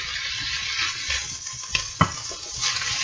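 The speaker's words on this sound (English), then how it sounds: "go ahead and give that another stir" Spoon stirring a quinoa and chickpea salad mixture in a bowl, soft scraping and rustling with two sharp clinks of utensil against the dish, close and alone.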